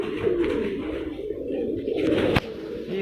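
Pigeons held by a pigeon-racing trainer coo in a low, steady warble close by, with one sharp short burst near the end and no talking.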